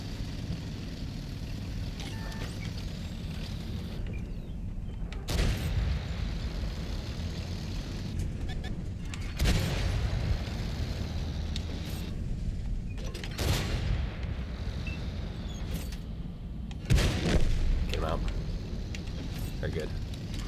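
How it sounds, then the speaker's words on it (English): Tank cannon shots in World of Tanks fire off one at a time as a few sharp, loud booms spaced several seconds apart, over a steady low engine rumble, with someone talking throughout. "I'm gonna get right behind him and shoot him 3 times, real quick, real fast."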